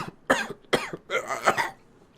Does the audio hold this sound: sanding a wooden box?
no